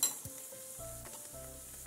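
Meat sizzles as it fries in a pan, with garlic added partway through; the steady sizzle runs under a few scraping stirs and soft clinks of the pan.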